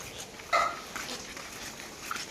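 A dog at night gives one short, sharp bark followed by a few fainter yips, set against a quiet, hissy background.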